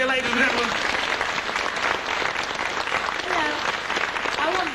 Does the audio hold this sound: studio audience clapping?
yes